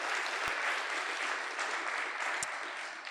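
Steady applause from an audience at a data science bootcamp demo day in Paris, continuous clapping held at an even level throughout, with a couple of sharp knocks standing out briefly.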